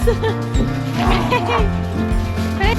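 Puppies yip and whimper in quick, high-pitched bursts close by at a dog shelter in Romania, mixed with a person speaking.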